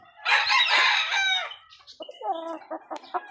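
A nine-month-old Golden Boy Sweater gamefowl rooster crows once, close and clear, a loud drawn-out call followed by a few short clucks and chuckles, with no other sound around it.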